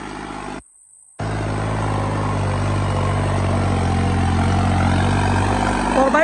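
A New Holland turbo tractor pulls a five-furrow plough through soil, its engine a loud, steady low drone with a faint turbo whine, close by and continuous after a brief cut near the start.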